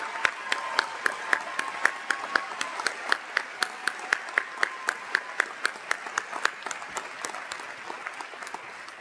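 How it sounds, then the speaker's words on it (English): Audience at a university commencement ceremony applauds steadily, a dense wash of clapping with a few sharp, loud claps standing out, heard with no voices over it. "Let's give them a round of applause."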